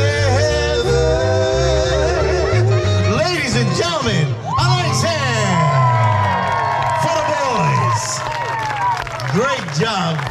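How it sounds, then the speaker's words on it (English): A luau audience at a Hawaiian beach resort cheers, whoops and applauds the performers, loud and close, mixed with shouting and a voice calling out over the crowd. "give these wonderful gentlemen another nice round of applause"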